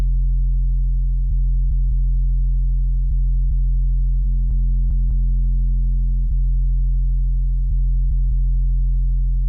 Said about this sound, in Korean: 요 EQ로 위쪽을 다 깎은 베이스 소리입니다